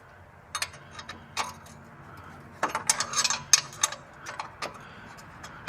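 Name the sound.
wrench turning a bolt on a Triumph TR6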